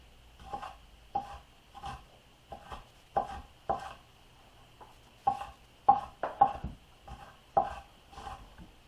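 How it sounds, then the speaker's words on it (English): A knife chops collard greens on a board, about a dozen crisp, sharp knocks in an uneven rhythm, close and clear over a faint background hum. "You don't have to chop them as much."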